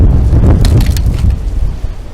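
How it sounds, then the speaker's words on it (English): Strong gusts buffet the microphone outdoors in a woodyard with trees, a loud low rumbling roar that fluctuates throughout the short stretch. "It's windy. It is windy. It's very windy."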